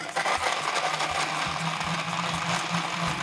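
A blender runs steadily while crushing ice for frozen cocktails, a loud whirring grind with rapid rattling chops throughout.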